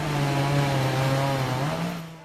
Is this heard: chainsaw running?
yes